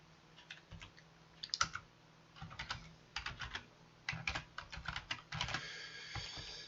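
Steady bursts of fast typing on a computer keyboard while code is written, clusters of crisp keystrokes separated by brief pauses, close and clear with no voices.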